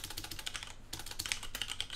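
Rapid typing on a computer keyboard, close and clear, with dense clicking keystrokes, a brief pause midway and no talking.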